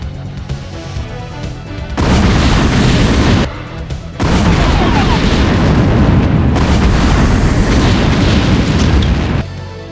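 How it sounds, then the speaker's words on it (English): A nuclear explosion in StarCraft, a loud, dense roaring boom that swells in heavy sustained bursts, briefly drops, then rumbles on at full strength. "Nuclear launch detected."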